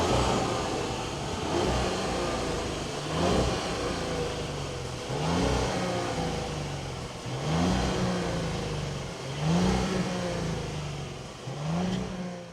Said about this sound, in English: We're drag racing the 2022 Audi Q7. Listen to that engine.